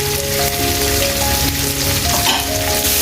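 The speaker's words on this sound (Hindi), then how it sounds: "इन वेजिटेबल्स को हमने 1 से 2 मिनट तक फ्राई करना है" Mixed vegetables and chillies fry in a pan of oil with ginger and garlic for restaurant-style egg fried rice, producing a continuous close, rain-like sizzle with faint stirring and no talking.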